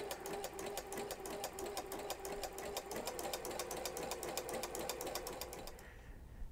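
A sewing machine runs steadily with a flower stitch foot, stitching a flower pattern in a zigzag-type trico stitch, a close, even rapid whir of needle strokes that stops near the end.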